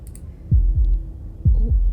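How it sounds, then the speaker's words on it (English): Two pairs of deep, thudding heartbeat pulses in the game Slay the Princess, each a quick lub-dub, close and loud over a quiet low hum, with no talking. "That was the sound of a heartbeat"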